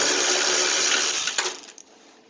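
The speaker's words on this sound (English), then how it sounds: "I'm using my Craftsman 3/8 cordless, and I just wanted to show you guys how this is working." A Craftsman 3/8-inch cordless ratchet runs with a loud, close, steady whir, then slows and stops in a few quick ratcheting clicks before near silence.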